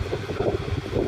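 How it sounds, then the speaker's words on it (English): Wind gusts over the microphone on the Newquay coast in Cornwall, a low, rumbling buffeting that stays steady and close throughout, with no voices. "It's very windy today."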